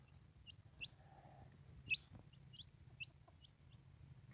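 White leghorn chickens and a young rooster cluck quietly nearby, with scattered short clucks and calls over a low background hum, one brief sharper call standing out midway.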